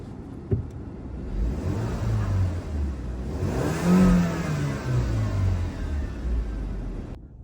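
A 52,000-mile Audi A3, not run in 10 years, idles steadily with a warning light on, giving a continuous close engine rumble that swells briefly around the middle before settling back to an even idle.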